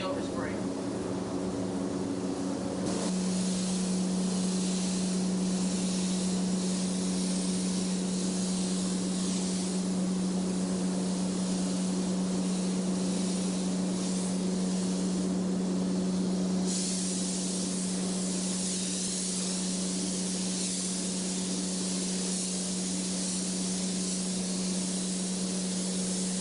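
An airbrush sprays tangerine and Spanish gold candy paint flames onto a Hummer, making a continuous, close hiss over a steady low compressor hum that lasts throughout.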